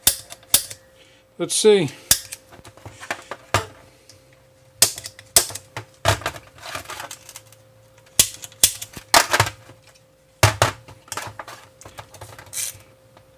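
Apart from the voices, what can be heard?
center punch hammered onto carburetor screws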